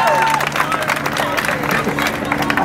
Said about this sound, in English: Give Ella a massive round of applause.